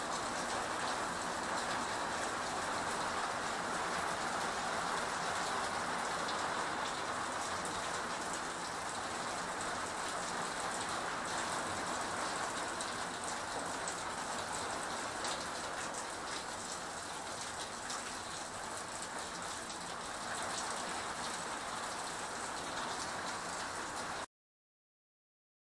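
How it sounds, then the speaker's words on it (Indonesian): Steady, heavy rain pouring down and drumming on surfaces, a dense continuous hiss that holds evenly before cutting off abruptly. "ini hujan ya kan"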